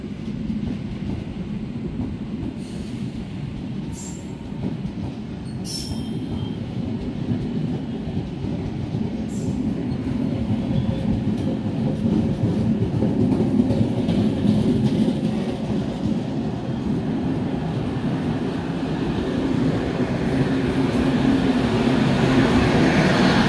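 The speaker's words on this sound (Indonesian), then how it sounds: "Ya, rangkaian Argo Semeru berangkat dari jalur 5 balik Dipo Cipinang." The Argo Semeru executive-class train pulls out of track 5 at a busy Jakarta station at night, a heavy rumbling roar that builds steadily, with faint squeals and clanks above it.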